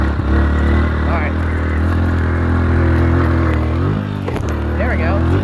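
Dirt bike engine on a motocross track dropping to a lower gear before a jump, a loud steady drone with brief revving shifts near the end, close up, with a rider talking over it.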